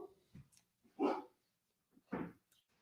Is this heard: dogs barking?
yes